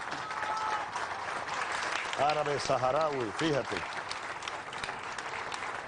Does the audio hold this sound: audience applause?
yes